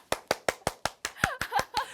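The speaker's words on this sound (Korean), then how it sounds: "여러분 박수 한번 치시죠" About ten sharp, evenly spaced claps ring out close and clear on a Korean stock-market variety show, with a brief voice slipping in near the end.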